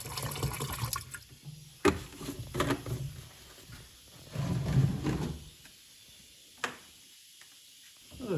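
Hardener and thinner poured into a container of spray paint, several short liquid pours and splashes with brief knocks and gaps of quiet between them, fairly close and soft.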